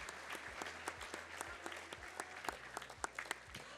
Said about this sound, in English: So let's give a big round of applause to all of our Davenport University students.